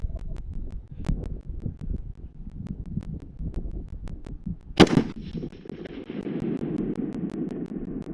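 A PSA 10.5-inch AR pistol fires at a steel plate outdoors, one sharp, loud crack standing out midway above steady wind rumble and faint ticks, followed by a trailing hiss.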